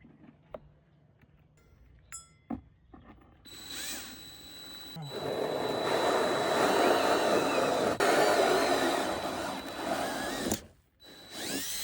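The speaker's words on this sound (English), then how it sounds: "We have a 3-inch hole saw. So now we have to cut into this brand new console" A 3-inch hole saw cutting into a new plastic console for a 1957 Chevy truck, a loud grinding whir that builds and holds for several seconds, then stops abruptly, with light clicks and handling noises before it starts.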